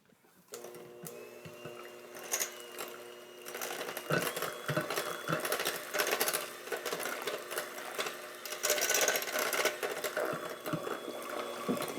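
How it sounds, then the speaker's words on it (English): An electric hand mixer runs in a kitchen with a steady, fairly loud motor whine and rattling beaters for several seconds, with no one speaking. "And then what I'm going to do is just get my hand mixer."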